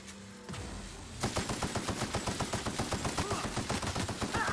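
Video game gunfire in The Outer Worlds: a short lead-in, then a long rapid automatic burst of evenly spaced shots, close and loud, with no voices.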